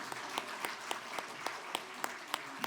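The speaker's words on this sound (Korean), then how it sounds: "다 같이 박수하도록 하겠습니다." A church congregation at a worship service claps together in celebration, producing a steady, moderate wash of applause with distinct individual claps heard throughout.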